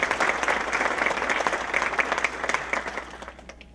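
Steady applause from an audience at an inauguration ceremony, honoring a retired minister; dense, sustained clapping fills the whole stretch and tapers off near the end, with no talk.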